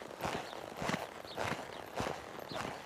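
A young horse moves at a slow lope during training, its hooves giving soft repeated thuds in a steady three-beat rhythm, faint and somewhat distant, no voices.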